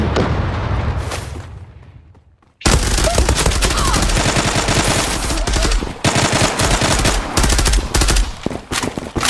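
Gunfire in the Zula video game: after a short fading lead-in and a near-silent gap, dense rapid automatic bursts crack continuously and loud, with layered shots and brief pauses, close and dominating.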